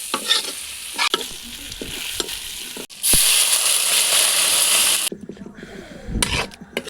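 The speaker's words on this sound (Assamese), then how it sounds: "এতিয়া এইখিনি ভাজি অকণমান গ্ৰেভি টাইপ কৰি তাৰপিছত আৰু কুকাৰত দি দিম" Meat and green chillies frying in hot oil with a pinch of sugar for biryani, a loud steady sizzle with stirring scrapes and clatter, the sizzle cutting off abruptly near the end before more stirring.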